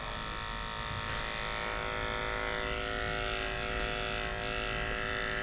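Electric clippers shave a dog, giving a loud, close, continuous buzzing drone that holds steady throughout.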